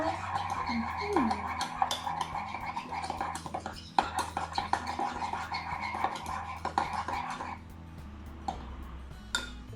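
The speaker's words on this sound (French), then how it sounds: "on peut même mélanger avec l'autre côté de la cuillère" A spoon stirs a thick flour-and-water paste in a bowl, giving repeated scraping and clinking taps in an irregular rhythm, close and fairly quiet.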